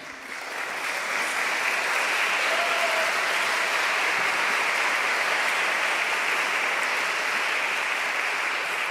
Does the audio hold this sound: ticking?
no